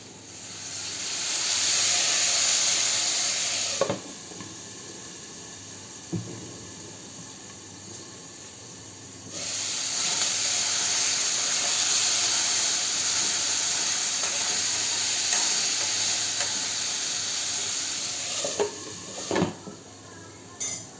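Oil for a bendakaya (okra) curry heating in a pan, giving a loud steady hiss that breaks off for a few seconds and then resumes, with a few clinks of utensils against cookware.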